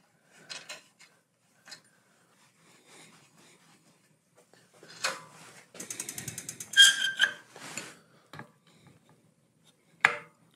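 A Park Tool DAG 2.2 derailleur hanger alignment gauge is threaded into the derailleur hanger of a Ride1Up Cafe Cruiser electric bike: quiet, close metallic clicks and ratcheting ticks, with a brief run of rapid clicks midway, all in near silence.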